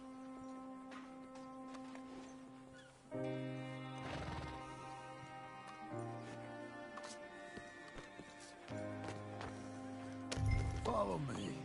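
A horse in the video game Red Dead Redemption 2 whinnies amid hoof clip-clops and swelling orchestral game music, with voices speaking at moments.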